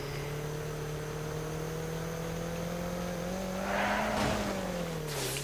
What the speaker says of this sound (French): la voiture quand t'accélères elle ne tourne pas